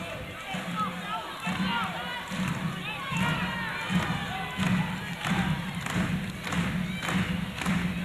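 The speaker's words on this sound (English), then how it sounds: "The crowd now starting to get into it a little bit. The pep band starting to get a little loud." Crowd noise rises in a college basketball gym during a 1992 regional semi-final, with a pep band getting louder, a rumbling wash of cheering and thumping in the background under steady play-by-play commentary.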